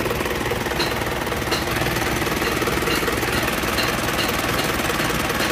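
Warmed-up engine running after repair work, a loud, harsh, rapid knocking clatter that stays dense and steady throughout, close to the microphone with no talk.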